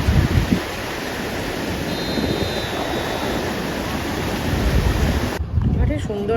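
Sea waves wash onto a beach at Atlantic City, a loud, continuous roar of surf mixed with gusty wind buffeting the microphone.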